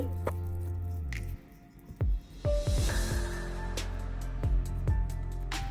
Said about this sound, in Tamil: கையுக்கு நல்ல எண்ணெய் பூசி போட்டு கொஞ்சம் மாவை எடுத்து உருண்டையாக முதல்ல பிடிப்பேன்